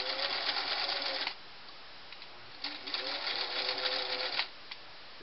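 A Singer Model 347 sewing machine runs in two steady bursts of rapid stitching, with a quiet pause between them, close and fairly loud.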